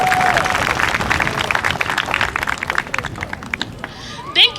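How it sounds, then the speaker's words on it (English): A graduation crowd for the class of 2021 breaks into loud applause and scattered cheers, a dense clapping wash that thins out toward the end, with some voices and babble mixed in. "You guys did it. Round of applause."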